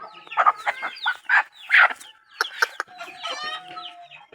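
A wild junglefowl clucks up close in a quick run of sharp, loud calls, then softer chattering clucks, with no one talking.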